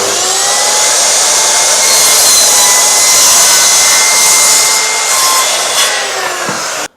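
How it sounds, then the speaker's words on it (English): Power saw cutting through a wooden wall panel with a Hoover vacuum running as dust extraction, a steady loud whining drone held for about six seconds before cutting off abruptly. "We're going to use a dust extraction, which is the Hoover, and we're going to quickly get this cut and glued in."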